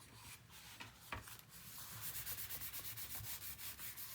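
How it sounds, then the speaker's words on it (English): Ribbon is rubbed and burnished down on the cover of a 9 x 8 mini album, giving quiet, repeated scratchy strokes that settle into a quick steady rhythm toward the end, with no voices. "I'm trying to really burnish down this ribbon."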